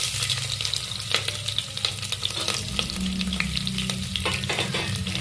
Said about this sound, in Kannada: ಇವಾಗ ನಾನು ಆಗಲೇ ಕಟ್ ಮಾಡಿ ಇಟ್ಕೊಂಡಿದ್ನಲ್ಲ ಆ ಈರುಳ್ಳಿ ಮತ್ತು ಮೆಣಸಿನ್ಕಾಯಿನ ಹಾಕ್ಕೊತಾ ಇದ್ದೀನಿ.